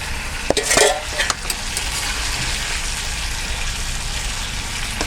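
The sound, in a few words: fish heads sautéing in pan for fish curry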